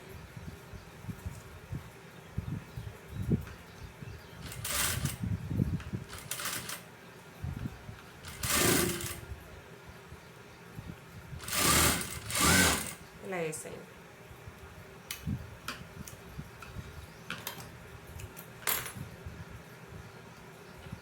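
Sewing machine joining fabric pieces for a blouse, heard in short intermittent bursts of stitching mixed with small clicks and handling noise, fairly quiet and close, with someone speaking at times.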